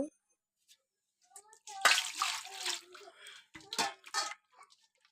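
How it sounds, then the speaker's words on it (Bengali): Water splashing and running as flour is rinsed by hand in a bowl, several short bursts of washing and dripping with brief pauses between, fairly close and moderately loud. "যতক্ষণ পর্যন্ত সাদা একটা জল না আসবে ততক্ষণ পর্যন্ত আমি ভালোভাবে জল দিয়ে বারে ধুয়ে নেব"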